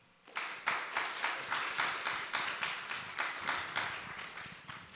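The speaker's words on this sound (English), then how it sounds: "So a warm round of applause for our panelists" Applause from a conference audience for a panel of speakers at a primary care event, a dense, steady patter of many hands starting abruptly and holding at an even, fairly loud level throughout.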